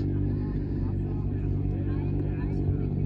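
Race cars roaring around a track at a night race, a loud, continuous low engine drone close by with crowd murmur and talk beneath it.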